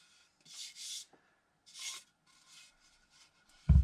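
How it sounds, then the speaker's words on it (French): Hand sanding of wooden ladder feet pieces, several short rasping strokes in separate bursts, close and quiet, ending with a dull knock. "Avec un petit coup de ponçage."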